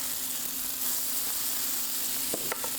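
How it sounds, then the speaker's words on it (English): Pumpkin spice pancakes fry in butter in a pan, giving a steady, close sizzle with a few light clinks near the end. "you can see the sizzling"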